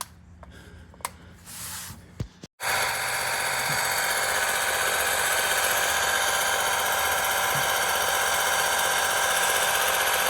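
Fluid pump drawing transmission fluid out of a 2013 Ford F150, starting after a few seconds of faint clicks and handling, then running as a steady, loud mechanical whir with a constant hum to the end.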